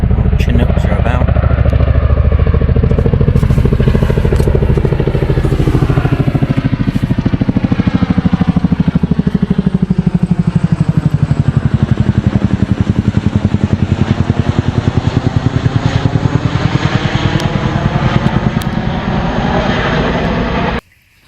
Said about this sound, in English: Chinooks are about.